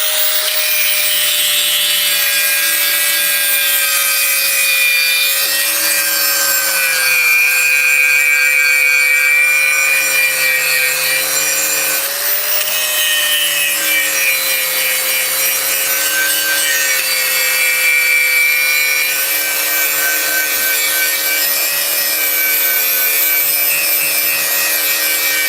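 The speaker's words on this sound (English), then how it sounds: "I don't know how it's going to sound with the grinder turning on" A grinder runs steadily in a forge workshop, a loud continuous whine with a wavering high-pitched tone that holds at full level without pause.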